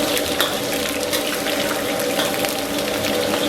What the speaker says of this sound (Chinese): 油温4成热，咱们把这个姜给它下里边